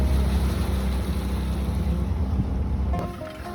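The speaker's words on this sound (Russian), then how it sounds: "Вот так мотор не шепчет." A steady, loud low drone of an outboard motor on a river boat running over rushing rapids, holding constant before easing off slightly near the end.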